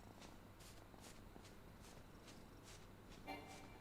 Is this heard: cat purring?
yes